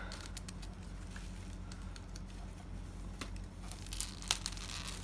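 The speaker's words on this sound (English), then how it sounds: "So now we're gonna split that section I cut earlier off and expose the fruit." A durian fruit section pried and split open by hand, giving soft crackling, tearing and fibrous crunching over a steady low background hum, close and fairly quiet.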